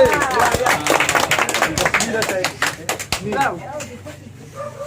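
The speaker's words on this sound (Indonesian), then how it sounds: "Mana tepuk tangannya?" Clapping from people at a Halawa family association gathering in Siak, a series of sharp close claps mixed with loud talking and shouting voices.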